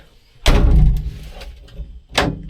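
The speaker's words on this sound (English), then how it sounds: "That locks the door." Door lock and handle on an old Mack truck being worked, giving a loud metallic clunk followed by a sustained rattle, then a second sharp click-clunk a moment later, close by with no talking.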